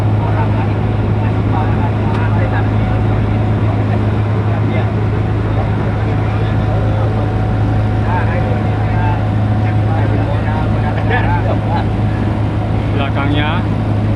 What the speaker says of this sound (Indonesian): Nah, ini kapal mayang. Isinya biasanya sampai 12 orang.